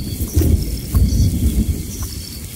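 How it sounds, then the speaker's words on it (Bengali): Rain falls steadily with deep rumbling thunder rolling underneath, close and fairly loud, with no voices. "বৃষ্টি শুরু হলো, প্রথমে বড় বড় দু চার ফোঁটা।"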